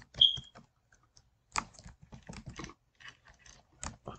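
A computer keyboard is typed on in short, irregular bursts of close, crisp key clicks separated by brief pauses, as a place name is entered into a search box. The clicks are quiet and no one speaks.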